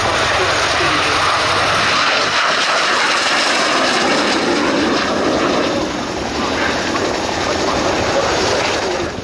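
A Spanish Navy Harrier jet flies at the RIAT 2023 airshow, its broad, loud engine roar filling the whole stretch continuously, with a commentator speaking over it.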